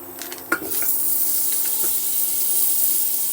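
Butter heating in a pressure cooker while making pav bhaji: a steady, close sizzling hiss runs throughout, with a brief clink of utensil on metal near the start.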